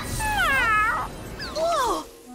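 A cartoon cat gives two drawn-out, wavering meows, the second slightly shorter, close and clear over a faint background.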